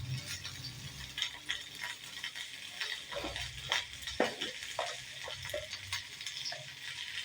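Pointed gourd (potol) fries with spices in a hot pan, a continuous sizzle broken by scattered clinks and scrapes of a spatula stirring against the metal, close and fairly quiet.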